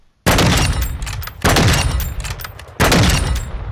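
A weapon in the video game Modern Warfare 2 firing loud, sustained automatic bursts up close: three long volleys, each starting abruptly and separated by short pauses.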